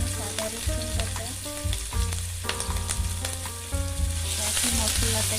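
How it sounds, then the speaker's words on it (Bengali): Onion paste and ginger-garlic paste fry in oil in a wok, giving a loud, steady sizzle with scattered pops, running under a tuneful musical backing. "এই তেলেই আমি মশলাটা প্রথমে একটু ভেজে নিচ্ছি। দিয়ে দিলাম 1 চামচ পেঁয়াজ বাটা, 1 চামচ আদা রসুন বাটা।"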